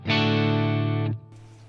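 One sustained distorted electric guitar chord rings out through an HX Stomp Mesa Boogie amp model with stereo reverb, held for about a second before cutting off into a brief reverb tail.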